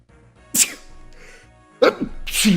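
A person sneezes twice, two sharp, close bursts about a second apart with a faint murmur between them.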